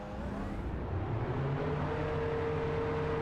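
Champ Car race cars idle on the grid at Watkins Glen just after engines fire, a steady layered engine drone with tonal hums holding at moderate distance.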